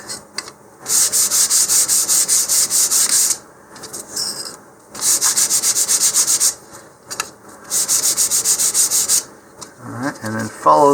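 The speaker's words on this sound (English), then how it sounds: "a quick sanding of the surface with 100 grit" Hand sanding of a custom model rocket's surface with 100 grit sandpaper makes loud, close, rhythmic rasping strokes in three long bursts separated by short pauses and handling noises.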